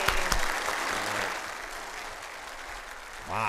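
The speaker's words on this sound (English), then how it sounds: "Yes, that deserves an applause." Applause follows a Navajo blessing: a dense, steady wash of clapping that slowly fades, with a voice briefly speaking at the end.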